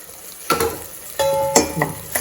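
Food sizzling in a pan with a couple of sharp stirring clatters, close and steady, no talk.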